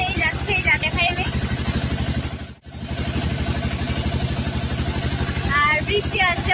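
Steady rumbling engine drone of a motorboat crossing a lake at Dumboor, loud and continuous with a brief dip midway, wind buffeting and a few voices murmuring underneath.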